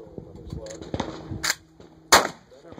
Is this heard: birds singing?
no